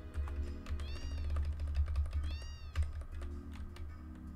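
A cat meows twice in short rising calls, close by, over steady computer keyboard typing and a low background hum from a room where a video game is being played.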